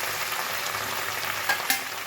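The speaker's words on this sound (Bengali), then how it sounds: "এবার আমি ভেজে রাখা পটলগুলো দিয়ে দেবো।" Fried pointed gourd pieces tipped into a sizzling pan of vegetable curry with potato and drumsticks, a close, even hiss of frying with a couple of soft knocks toward the end.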